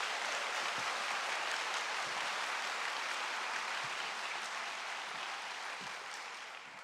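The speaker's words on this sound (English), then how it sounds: "we can still give them a huge round of applause and thanks for putting this together." A large school-district convocation audience applauds, a dense, steady wash of many clapping hands that holds loud throughout and eases off slightly toward the end.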